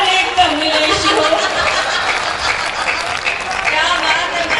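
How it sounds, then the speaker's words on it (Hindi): Audience clapping at a Hindi comic poetry recital, a steady dense wash of applause throughout with some scattered chuckles mixed in. "और ये तालियां वही लोग बजा रहे हैं जिन पर बीत चुकी है"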